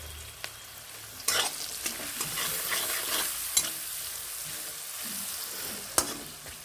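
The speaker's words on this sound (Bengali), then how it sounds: "এই এটা একটু ভাজা হতে থাকুক বন্ধুরা" Onions frying in a pan with salt and turmeric, giving a steady, close sizzle and hiss with occasional light clicks of stirring, alone without voices.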